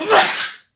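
A single sharp sneeze, close and loud, bursting out and fading within a second.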